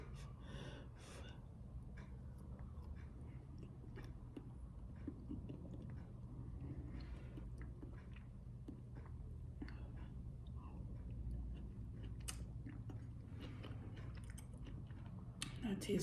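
Close, steady chewing while eating Jamaican red peas soup with cocoa, soft wet mouth sounds continuing throughout with faint breathing and no speech.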